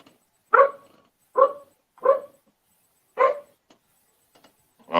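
A dog barks indoors in five loud, separate barks spaced about a second apart, with short silences between them and no talking.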